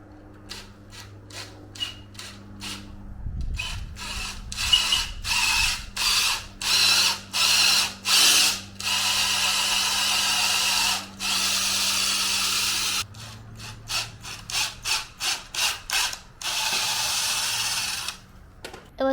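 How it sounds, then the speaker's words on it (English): A power drill bores a hole through the wooden face of a bed frame piece, in repeated short whirring bursts broken by pauses, then a longer steady run and a few more quick pulses, close up with no talking. "drill a hole through the face of this, and then that's where the thumb screw will go"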